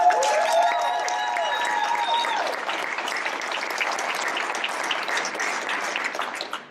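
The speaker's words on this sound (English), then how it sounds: "Give yourselves a round of applause." A crowd claps for itself at a gym grand opening, a loud burst of applause that stays full and steady across the whole stretch, with some tonal sound fading early on and no speech.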